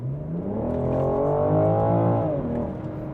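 A BMW M440i in sport mode revs hard as the accelerator is pressed, its engine note rising steadily and loud, holding high for a couple of seconds, then easing slightly, with no voices over it.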